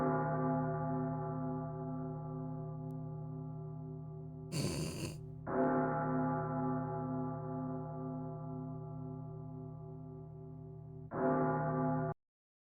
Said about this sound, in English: I kind of want to add the the ominous bells of doom